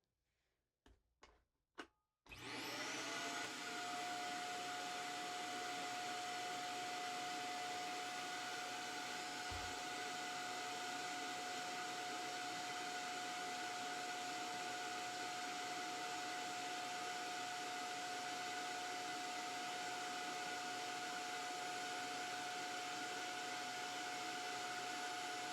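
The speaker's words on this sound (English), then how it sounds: "Make sure there's no items I don't want to vacuum." A household vacuum cleaner in a teen's bedroom clicks and bumps a few times, then switches on and runs loud and steady with a constant high whine for the rest of the stretch.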